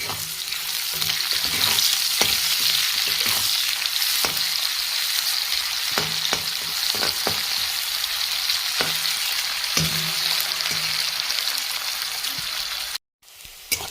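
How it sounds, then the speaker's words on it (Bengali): Steady, dense sizzling of onions frying in a pan, with occasional scraping stirs, continuous and close, ending abruptly in a brief silence. "পেঁয়াজটা হালকা করে লাল করে ভাজা হয়ে গেছে"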